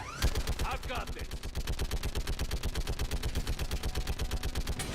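Sustained automatic gunfire in Mass Effect 3, a steady fast rhythm of close, punchy shots running without pause, with a short voice and squeal near the start.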